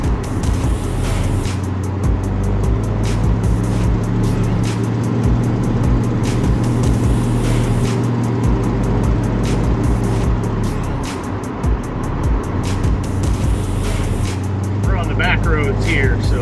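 A 1967 Dodge Dart cruises at about 30 miles an hour on rural back roads, its engine giving a loud, steady rumble with road and wind noise from inside the car throughout.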